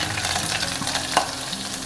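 Steady crackling and sizzling of mustard seeds spluttering in hot oil, with a stirring scrape and one sharper pop partway through.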